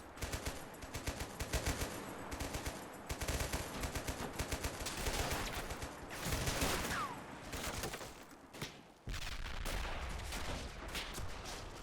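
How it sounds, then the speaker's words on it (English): Gunfire and mortar fire from a video game battle on a ridgeline, including a French mortar, with dense rattling bursts and booms that continue without pause, loud and layered with no talk. "French mortar here on the ridgeline firing."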